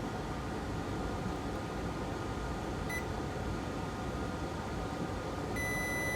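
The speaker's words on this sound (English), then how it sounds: "Meter in continuity mode." A multimeter in continuity mode checking a solder joint on an iPad Pro 10.5 gives short electronic tones, a brief one near the middle and a steadier one at the end, heard over a loud constant hum of background noise.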